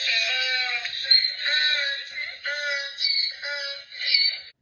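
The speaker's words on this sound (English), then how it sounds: "A donkey goes." A donkey braying, a loud, continuous, rough wheezing cry that wavers up and down through several linked pulses with no break, close and alone.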